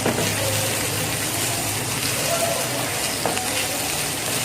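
Chicken curry with paprika sizzles in a frying pan while being stirred, giving a steady, moderate frying hiss with occasional scraping and no speech.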